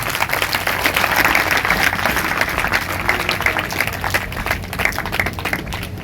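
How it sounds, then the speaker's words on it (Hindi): Loud, steady clapping from a church congregation during a Sunday sermon, dense and sustained throughout with no gaps. "अगर आपको आई है तो सभी जोर से तालियां बजाएं।"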